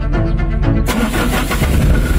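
Miniature Canter box truck starting up and pulling away, with a steady engine hum that jumps into a louder, brighter run as it drives off, close and without speech.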